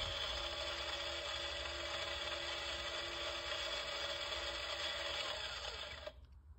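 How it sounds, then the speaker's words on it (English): A toy play set's button triggers an electronic coffee-grinding sound, a loud, steady mechanical whirring and grinding drone that runs continuously for about six seconds, then stops abruptly. "And it's like coffee grinding."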